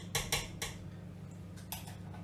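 A spoon taps and clinks against a bowl while cupcake batter is portioned into paper cases, giving a few sharp metallic ticks in quick pairs over a low steady hum.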